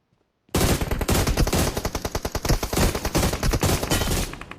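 Rapid automatic gunfire from a battle royale game such as PUBG or BGMI, set in Pochinki, erupts after a brief silence into a loud, dense, sustained burst of shots with no talking.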